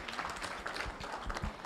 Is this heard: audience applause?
yes